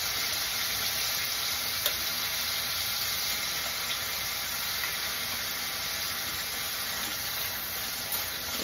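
Paneer sautés in hot oil for a mixed-vegetable kurma, giving a steady, even sizzle that holds at moderate volume throughout, with a couple of faint utensil taps and no voices.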